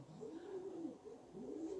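Pigeons housed on wire-grid floors coo steadily, a low throaty burbling that repeats in soft rolling phrases at moderate distance, with no voices present.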